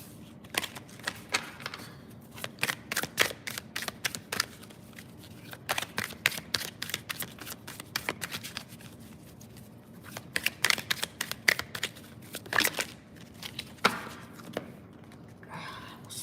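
A deck of tarot cards is shuffled by hand up close, with rapid riffling bursts and flicking card snaps repeating in irregular runs throughout, and no talk over them.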